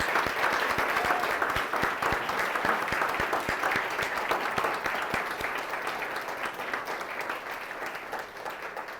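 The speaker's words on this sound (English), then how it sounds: "Give them a round of applause." A crowd at an awards event gives a long, steady round of applause for the Unsung Hero Award finalists, the dense clapping holding evenly and then slowly easing off.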